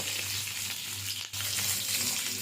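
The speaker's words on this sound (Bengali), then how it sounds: "পনির ভাজার তেলেই আমি পেঁয়াজগুলো ঠিক করে কেটে রাখো পেঁয়াজ আর ক্যাপসিকামগুলো ভেজে নেব" Sliced onions and capsicum frying in hot oil left over from frying paneer, a close, steady, dense sizzle with a brief dip partway through, without any voices.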